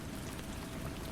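Steady rain patters down in a continuous, even hiss of drops on surfaces, moderately loud and unbroken, with no voices present.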